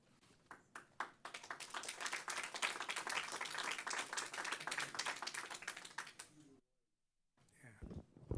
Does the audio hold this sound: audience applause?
yes